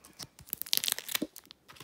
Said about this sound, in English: Just open the tape.